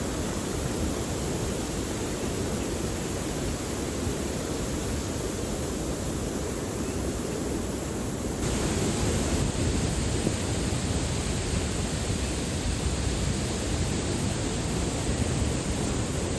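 Titvi waterfall at Lonar, with people wading in its pool, gives a steady, loud roar of cascading water close by. The sound grows slightly stronger midway and there is no talk.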